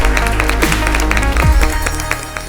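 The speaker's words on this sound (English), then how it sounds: "So a huge round of applause for Diksha" Studio audience applause on a televised spelling bee show, a sustained wash of clapping lasting a few seconds over a bed of music.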